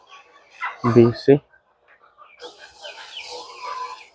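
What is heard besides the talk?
chickens clucking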